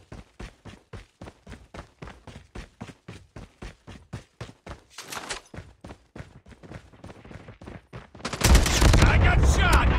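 Rapid bursts of automatic gunfire ring out in a Call of Duty Search and Destroy match on the Satellite map, a steady rattle of shots that ends in a loud, dense blast of sustained noise.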